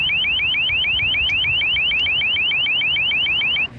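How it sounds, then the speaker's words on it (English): An LRAD long-range acoustic device blares from about 100 yards away: a loud, steady train of rapid, repeating rising warble tones that continues without pause until the very end. "I'm about 100 yards away from the LRAD right now, and even at this distance, the sound pressure level is pretty intense"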